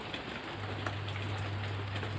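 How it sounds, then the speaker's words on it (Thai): Rain falls at night during frog and eel trapping, a faint, steady hiss of drops with a low continuous hum underneath and no speech. "ฝนตก"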